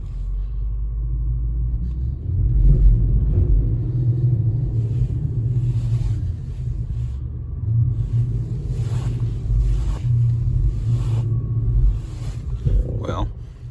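An Infiniti FX50 on bald tires pulling away through deep snow, a low engine rumble that swells and eases as the wheels spin, with a person talking briefly near the end.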